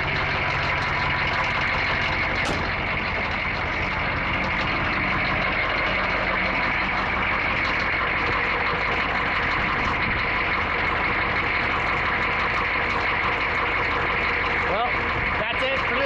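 M1008 CUCV military truck with a 6.2L diesel idles after a cold start, a loud, continuous rough rumble with steady clatter throughout.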